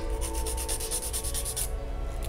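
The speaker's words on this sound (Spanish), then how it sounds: "Y limamos muy cuidadosamente por encima." Gel nail tip being filed with a nail file, a close, steady run of short back-and-forth rasping strokes for about a second and a half, then a quieter stretch with no talking.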